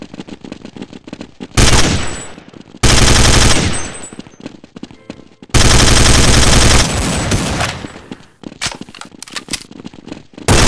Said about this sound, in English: Taking fire! Need assistance!